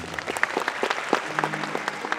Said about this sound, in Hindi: इस बात पर तालियां बजनी चाहिए